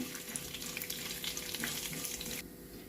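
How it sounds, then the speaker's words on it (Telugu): Urad dal with husk frying in hot oil, a close, dense crackling sizzle with bright spattering pops that keeps up steadily, then drops to a softer hiss near the end. "ఆయిల్ హీట్ ఎక్కింది. దీంట్లో ఒక 2 స్పూన్లు పొట్టు మినపప్పు వేస్తున్నానండి. దీన్ని కొద్దిగా వేగనిద్దాము."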